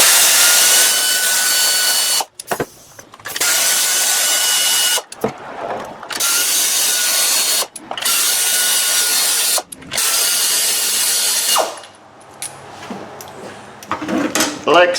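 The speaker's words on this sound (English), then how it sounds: "We will remove the plugs." Spark plugs coming out of a Hyundai Santa Fe 3.5 V6 during an ignition tune-up, a loud, close power tool whirring in several long bursts with short pauses and a final ratcheting clatter.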